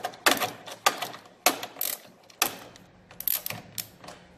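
Hand ratchet with a 13 mm socket unbolting fasteners on a 24 kWh Nissan Leaf battery pack, giving several separate bursts of quick clicking at close range with short pauses between, no talk.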